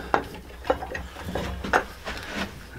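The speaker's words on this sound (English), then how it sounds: "Just put your 1/2 inch socket down in there. Just tighten it up." Socket wrench tightening a bolt on a cheap pump shotgun with a 1/2 inch socket, a handful of short metallic clicks and scrapes at an uneven pace, close and fairly quiet.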